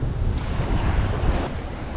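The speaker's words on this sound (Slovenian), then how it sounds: "tako da paše, da malo piha" Wind blows across a sailing boat at anchor off Bequia, a loud continuous roar of gusts buffeting the microphone with wave wash beneath, and no voices.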